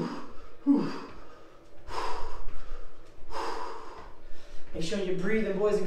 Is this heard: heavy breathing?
yes